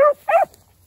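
Two sharp puppy barks close by, one right after the other, on an outdoor run, followed by quiet.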